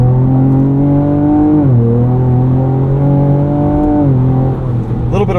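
A 2024 Ford Ranger Raptor on 34-inch Yokohama Geolandar tires accelerates hard from 0 to 60 on wet pavement, its engine droning loud and close as it climbs through two upshifts.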